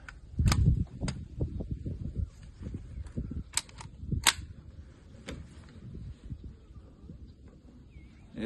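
A Crosman DPMS SBR BB gun fires several sharp, snappy shots at irregular intervals outdoors, each crack standing out over low thumps and handling noise.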